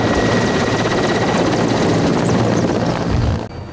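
A military helicopter flying close by, its dense rotor and engine roar loud and continuous, with a rapid beating chop throughout before the noise drops off abruptly at the end.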